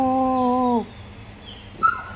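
A puppy whimpers in a long, steady, high-pitched whine that breaks off abruptly, followed by quiet room noise and a brief faint squeak.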